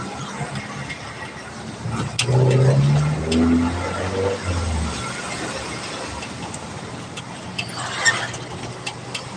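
An original American-made jeep fitted with a Toyota engine drives on a Merapi lava tour near Yogyakarta. A steady rumble of engine and road runs throughout, with a rising engine tone midway and occasional rattles and ticks.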